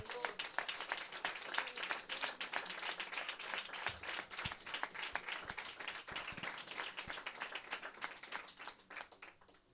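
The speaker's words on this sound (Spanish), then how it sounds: "Aplauda al Señor Jesucristo." A church congregation applauds together, a dense, continuous patter of many hands clapping at moderate distance, steady for the whole stretch with no voices standing out.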